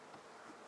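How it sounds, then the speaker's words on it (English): A honey bee buzzes close by near a beekeeper at a field day, a brief, faint, wavering hum. "You got a bee on you?"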